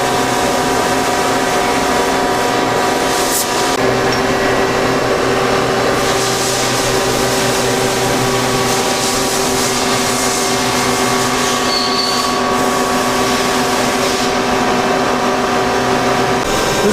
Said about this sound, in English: This is our new hobbing machine, our CNC hobbing machine.